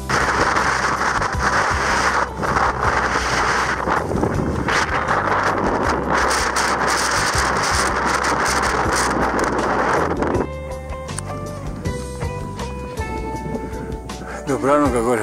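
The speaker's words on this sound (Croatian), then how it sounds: "Dobrano ga gore puše." Strong wind blowing on the Tušnica mountain ridge near Vitrenik peak in winter, loud, gusty buffeting roar across the microphone that eases near the end, with someone speaking under it.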